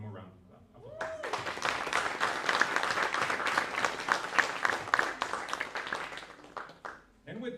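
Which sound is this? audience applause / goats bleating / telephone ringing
audience applause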